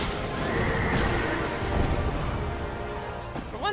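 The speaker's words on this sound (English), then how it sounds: "the Executioner's Chariot horse can be a really difficult fight" Neigh of the horse pulling the Executioner's Chariot boss in Dark Souls 2, a sustained whinny rising over a dense, noisy game soundscape of rumbling and clatter, loud and continuous for a few seconds.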